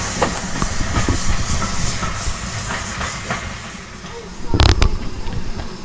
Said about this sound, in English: This tank engine is carrying or hauling some beautifully restored coaches.